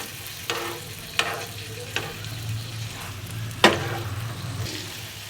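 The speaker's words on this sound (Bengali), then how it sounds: "দেন চিকেনগুলোকে আমি রোস্ট করে নিচ্ছি একটুখানি" Chicken pieces roast in a buttered pan, crackling and sizzling steadily while a spatula scrapes and stirs in a few sharp strokes, close and fairly loud, with no voices.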